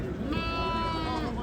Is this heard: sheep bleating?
yes